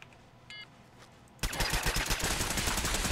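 Enemy automatic gunfire in Fallout 4 bursts in suddenly after a quiet stretch with a brief beeping tone, then rattles on loud and continuous in rapid, evenly spaced shots.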